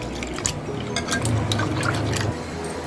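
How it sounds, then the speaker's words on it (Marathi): Water sloshes and splashes in short bursts as lentils are swished and rinsed in a bowl, close and continuous. "डाळ आपल्याला दोन तीन पाण्याने व्यवस्थित धुवून घ्यायची आहे"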